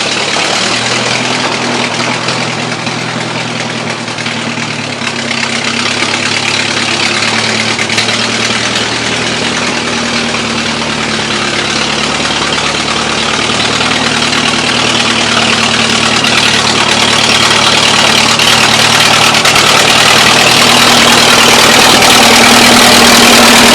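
A 1940s Allis Chalmers Speed Patrol grader and a 2016 or 2017 Kubota L3301 tractor work a gravel drive, their engines producing a loud, steady rumbling idle with a low throb that persists throughout, with no talking.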